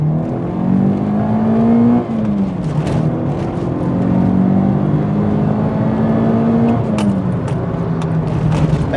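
A Peugeot 306 GTI hot hatch from the 1990s on a wet British country lane, its engine revving loudly and climbing through the rev range with rising tone, easing and pulling again while the car accelerates close by.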